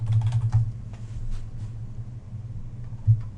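Typing on a computer keyboard in a spreadsheet: a short run of quick, soft keystrokes, close by, over a low steady hum, with a final louder tap.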